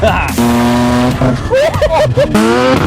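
Mazda RX7 FD rotary engine revving with a choppy, rasping brap, harmonic tones climbing and falling through quick throttle blips, close and loud, with people talking over it.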